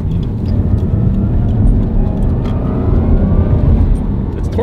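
A new car's engine revs up to 4,000 RPM, a loud, low, steady roar filling the cabin with a heavy rumble that holds throughout, recorded close from inside the car.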